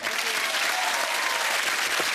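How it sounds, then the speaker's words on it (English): A studio audience at a television game show gives steady, moderately loud applause, a dense wash of clapping that holds evenly from start to finish. "a little applause, please, for Lynn Tom"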